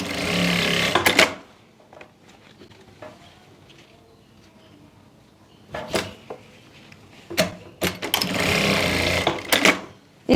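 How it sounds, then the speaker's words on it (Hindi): A sewing machine stitches elastic onto trouser fabric in short, loud bursts of rapid rattling, one at the start and several more near the end, separated by quiet pauses with faint handling noise. "ऊपर कपड़े को इस तरह से रखते हुए यहाँ पर सिलाई लगा लेंगे।"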